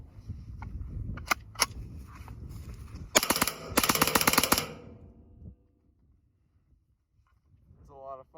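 A Ruger 10/22 rifle fires in a fast string of sharp, close, rapid cracks, a couple of isolated shots before it, over outdoor background noise, with a voice speaking briefly near the end.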